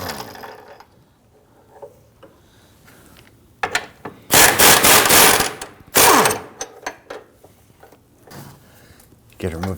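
A ratchet wrench works a 21mm nut off a front control arm bolt on a 2009-2017 Volvo XC60 3.2L; two loud bursts of rapid metallic ratcheting follow quieter handling sounds, with a low voice faintly present.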